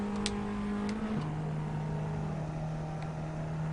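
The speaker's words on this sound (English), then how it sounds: "We are drag racing Fiat Arbaths" Fiat Abarth cars drag racing in the Assetto Corsa driving game, a steady near engine drone that shifts down in pitch once about a third of the way through, then holds a constant hum, with no talking.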